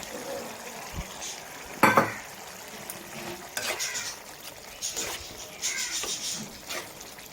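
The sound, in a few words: fried prawns added and stirred into boiling curry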